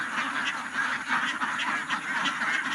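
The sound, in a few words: domestic ducks quacking on a duck farm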